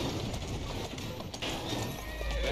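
A horse in Assassin's Creed Syndicate's London trots with rhythmic clip-clopping hooves, and a brief whinny rises over the steady footfalls amid light ambient noise.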